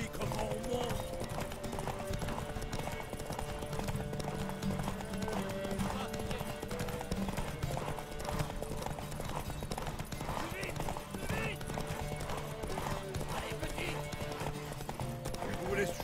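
Steady clip-clop of horse hooves in The Witcher 3: Wild Hunt, a continuous rhythmic trot running the whole time beneath game music and spoken dialogue.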